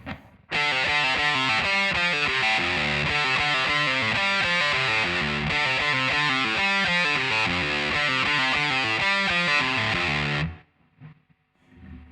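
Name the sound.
guitar playing bridge riff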